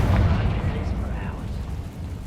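A Confringo blasting spell explodes in Hogwarts Legacy, a heavy booming blast with a rumbling tail that rolls on for about two seconds.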